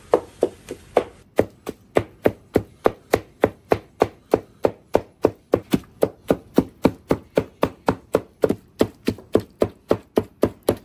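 A cleaver chops pork knuckle and meat up close, striking loud, sharp blows in a fast, steady rhythm of roughly three per second that continues throughout with no talking.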